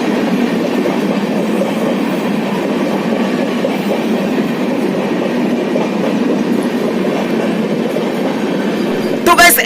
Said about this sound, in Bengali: আর এই ট্রেনে অপেক্ষা করতে করতে গাইস চলে এলো আমাদের উড়িষ্যা সম্পর্ক্রান্তি এক্সপ্রেস